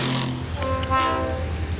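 A train during a film stunt rehearsal rumbles close by with a sustained tonal horn or whistle layered over low rolling noise, heard briefly without talk.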